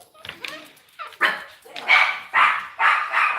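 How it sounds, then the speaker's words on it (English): A dog barks repeatedly indoors in a UK home, a string of loud, sharp barks in a steady rhythm that grows more insistent, close by and dominating the scene. "And she'll continue to bark, but it won't be as loud."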